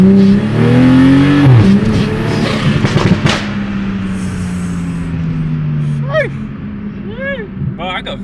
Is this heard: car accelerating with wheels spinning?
yes